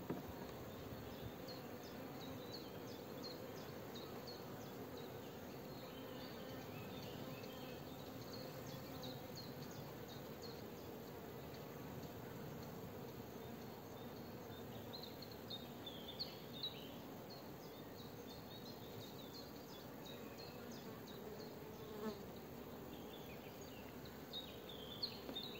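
Honeybees from a small two-frame swarm in a beehive hum steadily and continuously at low level, a close, even drone with faint higher buzzing flickers throughout.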